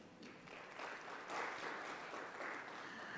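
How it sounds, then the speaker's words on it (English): Audience applause at a panel event on inclusive education, a steady wash of clapping that holds for a few seconds at moderate distance with no voices over it. "Let's give her a round of applause."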